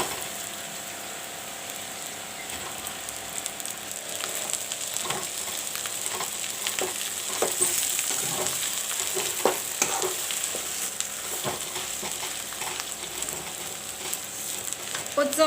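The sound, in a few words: frying onions and mashed potatoes in a pan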